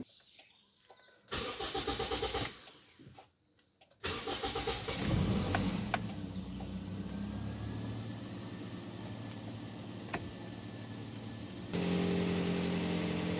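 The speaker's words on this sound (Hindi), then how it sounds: "अभी इसको स्टार्ट करता हूँ गाड़ी को और इंडिकेटर चला के देखता हूँ" A car engine cranks and catches, then settles into a steady running idle, heard up close with a few clicks and no talk.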